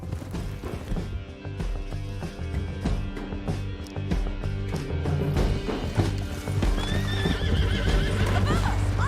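Horse hooves clop in a steady rhythm alongside whinnies, set against a busy Red Dead Redemption game soundtrack of music and effects.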